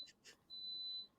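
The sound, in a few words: rice cooker beeping while making congee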